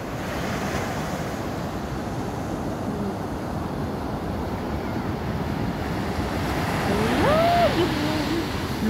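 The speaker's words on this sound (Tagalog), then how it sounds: "parating na yung malalaking alon" Big ocean waves roll and crash continuously on the shore at Noja, Cantabria, with a loud steady surf roar and wind buffeting the microphone, building slightly toward the end.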